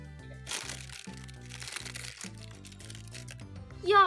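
Plastic packaging of Barbie doll tracksuit clothes being opened, close crinkling and crackling in bursts over soft background music, with a brief voice at the end.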